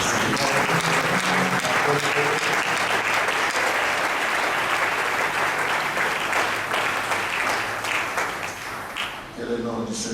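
A church congregation applauding and cheering the Lord during a French-language sermon, dense sustained clapping with cheers from a large crowd, loud and steady throughout and tapering near the end, with voices mixed in.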